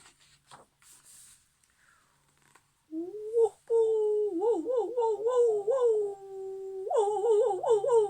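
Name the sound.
dog barking and howling at the moon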